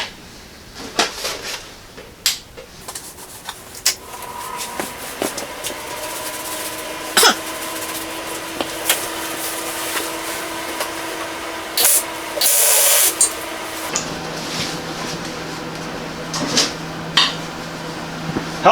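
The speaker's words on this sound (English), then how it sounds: "Tacking the tabs that bolt to the unit right now." MIG tack welding of mounting tabs for a Hot Dawg 60,000 BTU heater install: close, short crackling bursts and clicks, with a few longer sizzling spurts between quiet gaps.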